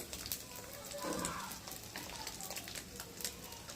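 Fish curry cooks in a pan, giving a steady soft sizzle and crackle of hot oil with a brief louder hiss partway through, under faint background noise.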